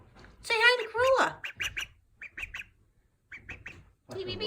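A pet duckling named Aflac squawks in a series of short, shrill, rising calls, starting with a longer cry and then quick bursts of two or three peeps, close and clear with quiet gaps between.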